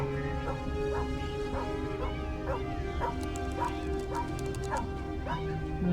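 A stray dog in the cyberpunk video game Tales of the Neonsea yips and barks in a steady rhythmic series over a constant humming game soundtrack.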